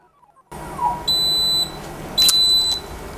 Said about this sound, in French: le petit bip pour dire que c'est terminé